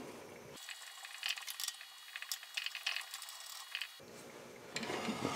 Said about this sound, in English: next I'll thread these handles on.